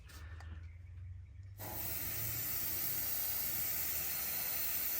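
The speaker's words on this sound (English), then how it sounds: "So I'm spraying on about 20." An airbrush spray gun painting a swimbait fishing lure, starting with a faint low hum, then a sudden steady hiss of spray that runs close and even until the end.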